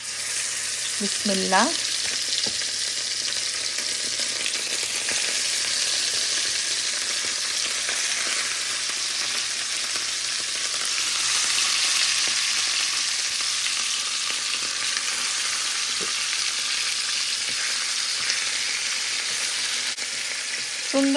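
Fish and onion fry together in oil with a loud, continuous sizzle that swells slightly midway; a voice speaks briefly near the start and a few utensil taps occur.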